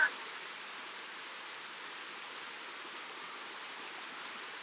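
Water flows at a waterfall on Siquijor as a steady, soft, hissing rush with no breaks or voices over it.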